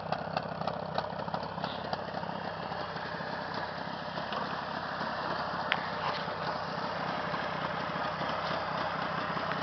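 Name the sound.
Jawa 638 motorcycle engine idling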